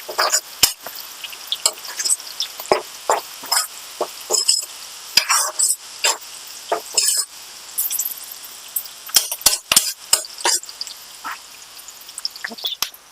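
Onions and turmeric fry in a pan, heard as irregular scraping and stirring clatters with short bursts of sizzle, close and fairly loud.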